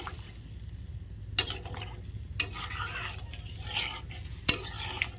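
A spoon scrapes and clatters against a pan while stirring potato and egg curry, a few sharp knocks standing out over a soft, steady background of low cooking noise.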